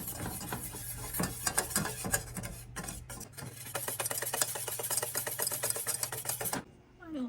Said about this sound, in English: We have to mix it for a while so that it dissolves into a smooth consistency